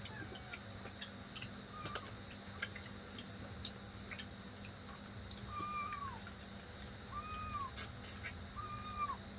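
A cat meows several times indoors, short rising-falling calls spaced a second or two apart, faint against quiet room tone with light ticking clicks.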